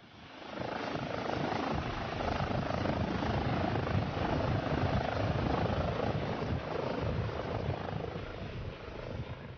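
SAMU medical helicopter lifting off at night, its rotor and turbine rising from quiet into a steady loud whirring roar that holds for several seconds, heard alone.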